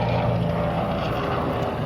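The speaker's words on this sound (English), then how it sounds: "I got a helicopter going overhead" A helicopter flies overhead, giving a steady, loud, broadband engine and rotor roar that fills the whole stretch without fading, with no voices.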